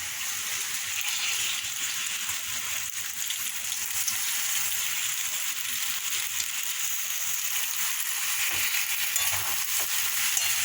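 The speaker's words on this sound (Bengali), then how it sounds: "পাস্তাগুলো দিয়ে একটু নাড়াচাড়া করবো" Pasta is stir-fried with vegetables in a hot pan, giving a continuous bright sizzle and frying hiss with faint stirring scrapes throughout; no voices.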